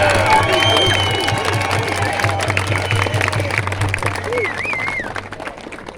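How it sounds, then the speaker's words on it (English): A large rally crowd outside Parliament House in Canberra applauds and cheers, a dense roar of clapping with whoops and shouted voices, loud and continuous under a steady low hum. "So please, one more huge round of applause for this courageous doctor, Dr. Peter Johnson, one more time."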